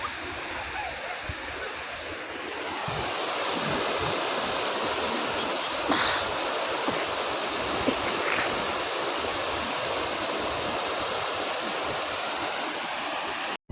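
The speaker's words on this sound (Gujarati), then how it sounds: "ગાંડી નદી આવી છે પણ મસ્ત આછલ પાણીની આવી છે" A flooded river in full spate rushes past, loud, close and continuous, with a brief splash or two rising above the roar. No one speaks.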